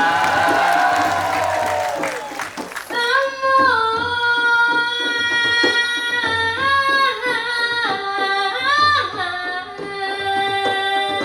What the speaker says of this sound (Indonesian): Sebagai tanda gembira, tepuk tangan semua.